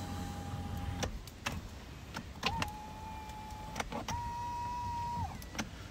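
An electric seat motor in a 2017 Nissan Navara 2.3 dCi Tekna whirs in steady runs of a second or so, separated by sharp clicks and taps inside the quiet cabin.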